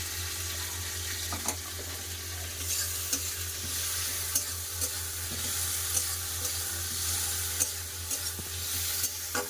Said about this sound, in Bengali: পেঁয়াজের সাথে টমেটোকে ভালো করে কষে দিয়েছি